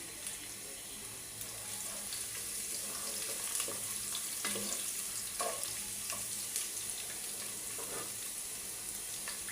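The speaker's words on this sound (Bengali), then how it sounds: "এখন এটা একটু বেজে নিব আমি" Chopped onion and garlic fry in a pan for a Chinese vegetable dish, a quiet, steady sizzle broken by occasional crackles and the soft scrape of stirring.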